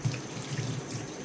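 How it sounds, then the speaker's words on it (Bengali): A thin white cloth is washed under running tap water in a kitchen sink during homemade cheese preparation. Steady splashing and trickling sounds continue at close range, with no voices. "এটা পাতলা সাদা কাপড়, এটাও ধুয়ে নিই।"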